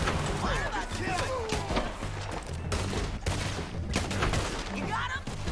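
Repeated gunfire from a Red Dead Redemption 2 shootout crackles in bursts throughout, with overlapping shots against a busy background and voices calling out in between.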